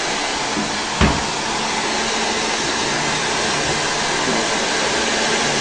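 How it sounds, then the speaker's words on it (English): A hand-held hair dryer on a warm, gentle setting blows over freshly towel-dried hair after a hair transplant, a steady close whooshing roar with a single soft knock early on. "Now we're going to blow dry for hair."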